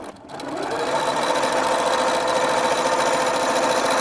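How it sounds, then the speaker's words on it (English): A sewing machine stitches quilt pieces for a 3D block pattern in a steady, loud, continuous whir that starts up after a brief moment and runs without letup. "So I'm going to sew up along here."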